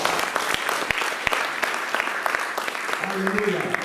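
A church congregation applauds with steady, dense clapping that fills the room, while a voice speaks over it and a short sung or sustained tone rises near the end.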